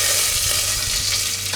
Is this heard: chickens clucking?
no